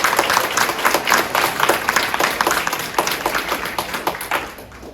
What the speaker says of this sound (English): if we could give them a quick round of applause